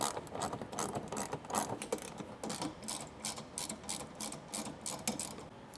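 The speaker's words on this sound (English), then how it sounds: "under the bumper, we're gonna have 2 more 10mm bolts. Take those out." Rapid ratchet clicking as 10mm bolts are backed out from under the front bumper of a Toyota 4Runner, a steady close mechanical chatter running throughout with no talk.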